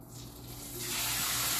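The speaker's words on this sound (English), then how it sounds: "Oh yeah, that sizzle." Chicken sizzles and crackles in a hot pan, the frying hiss swelling louder partway through.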